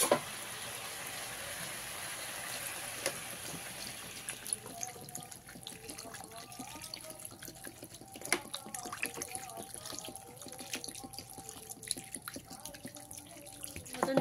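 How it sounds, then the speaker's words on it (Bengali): Water poured into a pan of fried-up chicken stew base hisses and sizzles, then settles into a quieter bubbling simmer with scattered crackles. No one speaks. "এবারে এর মধ্যে পরিমাণ মতন জল দিয়ে দিলাম।"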